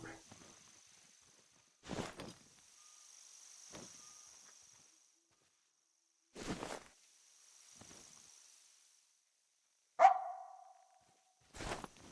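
A dog in a hunting game barks in a few sharp, separate bursts spread over several seconds, with quiet gaps and soft footsteps between them, heard alone without talk.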